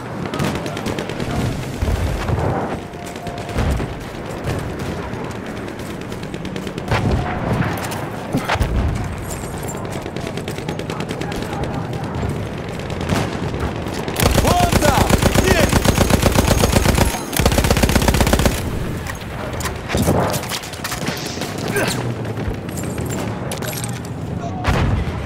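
Lewis gun machine-gun fire in a World War battle game on the Volga river, with repeated rapid automatic bursts, one long sustained volley midway, amid explosions and other battlefield shots, with in-game voices shouting in Russian.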